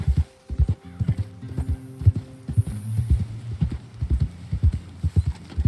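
Rhythmic hoofbeats clip-clop steadily in a game, with a low hum and an occasional faint whinny-like tone underneath.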